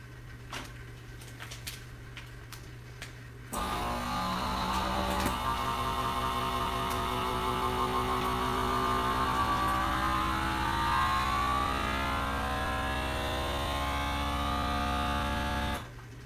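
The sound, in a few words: FoodSaver vacuum sealer machine sealing a bag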